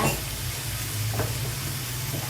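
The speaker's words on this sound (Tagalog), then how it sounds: "Hayaan lang muna natin yan na maluto siya, ganyan lang muna." Vegetables, including cucumber and carrots, sizzle and crackle in a hot pan with a steady, close frying hiss and no talk.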